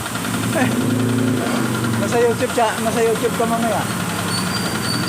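An engine-driven machine running steadily after its leak and vibration were repaired on a home-service job in Taguig, a continuous mid-pitched hum under loud, close conversation throughout.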